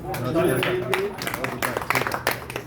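Applause breaks out for trainees at a fire safety training session, a group clapping in a ragged burst of sharp claps that builds toward the end, with voices talking underneath.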